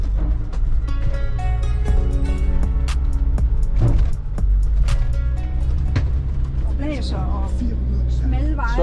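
A camper van drives off with a loud, close, low engine rumble that stays steady throughout, while people talk over it.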